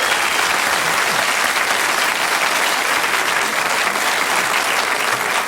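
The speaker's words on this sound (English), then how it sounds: "Big round of applause for them, ladies and gentlemen." A studio audience at a televised comedy news quiz show breaks into loud, dense, steady applause that holds at an even level throughout, close and full, with no voices over it.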